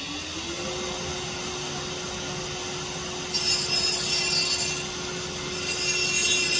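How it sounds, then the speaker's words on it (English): A router cuts threads into a wooden box piece on a ChefwareKits EZ Threading Jig, a steady high whine with a rough rasping bite that swells as the cutter engages the wood. "and cut the thread"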